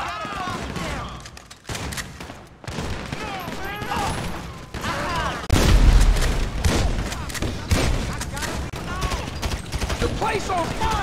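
Gunfire rings out in a GTA video game shootout, with dense bursts of shots and heavy booms throughout, mixed with shouting voices and game effects.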